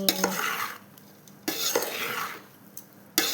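Puffed rice stirred with dal and coconut powder in a pan on a stove, giving repeated scraping sweeps and light rustling with a few sharp clinks against the pan.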